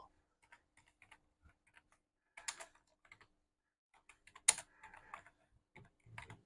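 Light, sparse clicks of a computer keyboard sound up close and quietly, with scattered single taps and a few short bursts of quicker typing.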